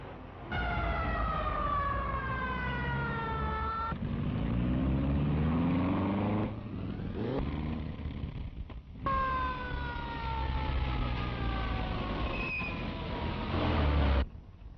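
An armored car with a siren in a radio drama sound effect: a loud, continuous wailing siren with sweeping rising and falling tones that cuts out briefly midway and then resumes over a steady vehicle rumble, with no talking.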